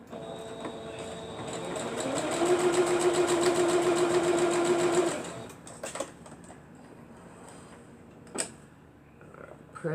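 Sewing machine stitching a seam on a pencil quilt block, a steady mechanical whir that builds and holds for a few seconds, then stops, followed by a few small clicks and handling sounds.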